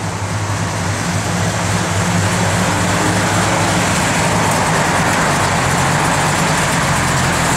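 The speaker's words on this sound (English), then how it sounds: "Car's got a good sound to it." A 1969 Dodge Coronet R/T V8 idles steadily, a loud continuous low rumble with a dense broadband roar that holds evenly from start to finish.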